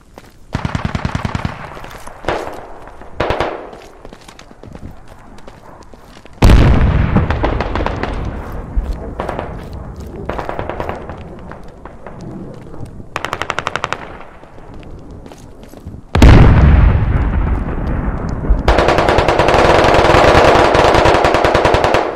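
Gunfire in the video game Squad: loud, dense bursts of rapid automatic fire and heavy, booming shots follow one another in long sustained stretches, with brief lulls between the heaviest volleys.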